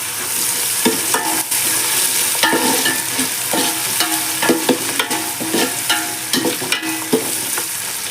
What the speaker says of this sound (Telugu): ఆయిల్లో వేయడం వలన అది మెంతి కూర మంచిగా డ్రై అవుతుంది,